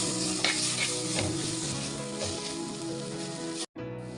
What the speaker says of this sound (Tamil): மூணு தக்காளி வந்து நேர்பாக்கில் கட் பண்ணி வச்சுருக்கோம் அதை சேர்த்துக்கலாம் அது சேர்த்து வதக்கிடலாம்